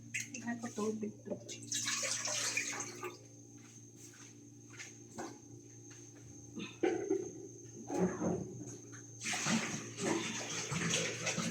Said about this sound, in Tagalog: Dagdagan ko tubig to.